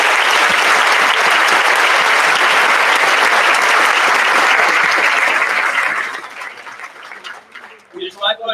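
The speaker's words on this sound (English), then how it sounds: "Please join me in a round of applause for our middle school harmonizers and tonight's honorees" Audience at a middle school moving-up ceremony applauds loudly and steadily for several seconds, the clapping fading out as a voice begins speaking at the end.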